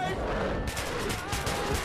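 Rapid gunfire from the shooter game Metro 2033 Redux, a short burst of shots crackling under a dense game mix, fairly quiet and partly muddied by background sound.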